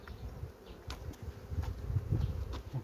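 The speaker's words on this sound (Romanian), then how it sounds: "Precum ați observat, este albină roșcată." Reddish honeybees buzzing at a beehive during hive cleaning, a steady low drone that swells louder toward the end, with faint scattered clicks and handling noises over it.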